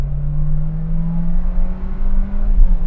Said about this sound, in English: What I'm willing to do though is rev this engine out.